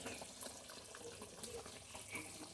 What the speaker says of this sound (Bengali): বাটিটা ধুয়ে একটু জল দিয়ে দেবো।